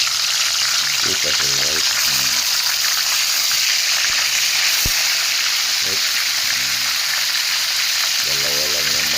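Two tilapia fish heads fry in hot oil, giving a loud, steady sizzle that fills the clip, with a few soft clatters and a brief voice speaking under it.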